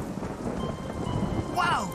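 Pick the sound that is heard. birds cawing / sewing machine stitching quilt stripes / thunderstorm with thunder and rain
thunderstorm with thunder and rain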